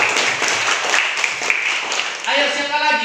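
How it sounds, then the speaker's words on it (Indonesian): Pupils in a classroom clap for a classmate, a brief burst of applause that fades as a voice begins speaking near the end. "Tepuk tangan untuk Gio"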